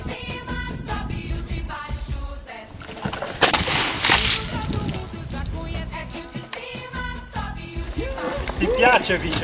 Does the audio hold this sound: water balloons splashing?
yes